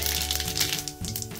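Mustard seeds crackle in hot oil in a kadai on a gas stove: a continuous fizzing patter of small pops, close and moderately quiet, with a faint steady hum beneath. No talking.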